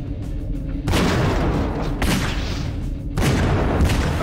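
Explosions in the Garry's Mod video game, a FNAF 2 co-op session: a dense, loud roaring blast sound with several abrupt renewed bursts over four seconds.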